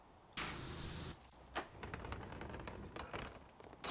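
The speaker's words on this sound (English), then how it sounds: "Now let's spray it from the outside." A pressure washer sprays a door in PowerWash Simulator 2, a loud hissing jet burst of about a second followed by quieter sputtering spray and scattered clicks.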